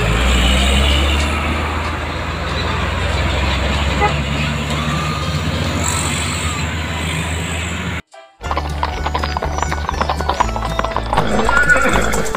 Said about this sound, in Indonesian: Ya, namanya horse